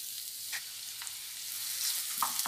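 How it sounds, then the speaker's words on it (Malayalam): Thin-sliced medium onion sautéing in hot coconut oil, a soft, even hiss of frying broken by a few light clinks and scrapes of stirring, close and quiet with no voices. "വെളിച്ചെണ്ണ ഒന്ന് ചൂടായതിന് ശേഷം 1 മീഡിയം സൈസ് സവാള ചെറുതായിട്ട് നീളത്തിൽ അരിഞ്ഞതാണ്"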